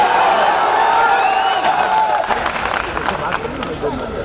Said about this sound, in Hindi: तालियां मारते हैं, नारे लगाते हैं